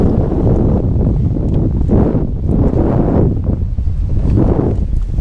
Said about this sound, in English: Holy crap, this wind.